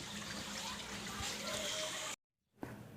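Water drains from freshly washed leather hides, destined for Kolhapuri chappals, laid over a shop to drip, giving a faint, steady trickle that cuts out briefly before resuming.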